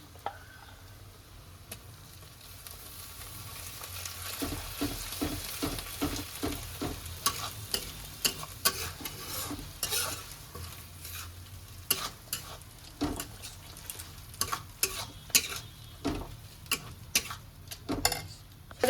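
Ginger garlic paste sizzles and crackles in a hot pan while a utensil stirs and scrapes in quick, irregular taps, close and moderately loud.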